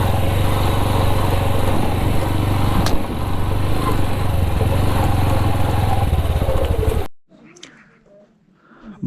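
A motorcycle engine drones steadily and loudly up close on a ride toward Hoper Glacier in Nagar, Gilgit-Baltistan, then cuts out abruptly, leaving quiet outdoor ambience.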